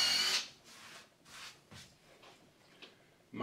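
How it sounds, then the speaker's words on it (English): A power drill whirs in short repeated bursts, each spin rising and fading, with a louder burst at the start and a brief click near the end. "as well as drilling holes at the edge without the drill running off center."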